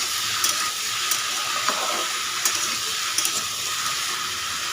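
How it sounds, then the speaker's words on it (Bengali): Chopped bottle gourd being stirred with spices in a hot frying pan: a constant close sizzle and steamy hiss, with occasional soft scrapes of the spoon against the pan. "লাউগুলো দেওয়ার পরে ভালো মতো এবার মশলার সাথে আমি ভালো মতো মেজে নিচ্ছি"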